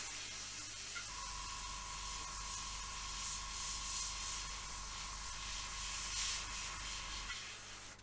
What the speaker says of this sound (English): the way to do mottling, or the way I have developed, is just keep the airbrush moving